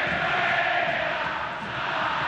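San Lorenzo supporters rise in a stadium during a 2012 Torneo Inicial match against Atlético Rafaela, giving off a steady, dense crowd roar that holds at one level without pause for the whole moment.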